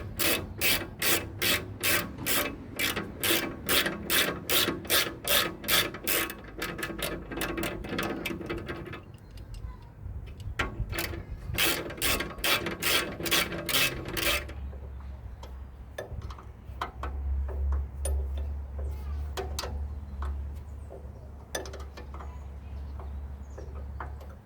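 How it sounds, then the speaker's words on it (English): A wrench works a bolt loose on an old railroad motor car, giving a quick, regular run of rasping clicks in close bursts, then pausing before a second burst, followed by a low hum. "I'd use a ratchet on his, but the crank would be in the way, so I have to use the wrench."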